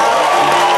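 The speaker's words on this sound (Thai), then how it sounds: "ขอปรบมือดังๆให้เลยค่ะ" A studio audience at the Thai TV design competition Perfect Design claps in a short, dense burst of applause that fills the whole moment at steady volume.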